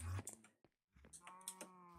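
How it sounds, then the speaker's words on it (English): A cow moos in Minecraft, a short low bovine call heard up close, followed by a brief gap and a second longer moo among light game sounds and clicks. "Moo. Yeah, moo."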